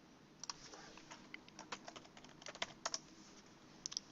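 Irregular bursts of typing on a computer keyboard, quiet and close, with uneven clusters of key clicks and short pauses between them.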